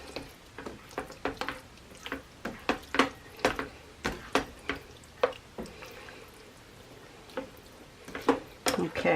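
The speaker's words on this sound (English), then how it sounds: "So I mix that together real well." Ingredients for an Italian casserole are mixed in a bowl, with a spoon clinking and scraping in irregular taps, fairly quiet and close, with brief pauses between strokes.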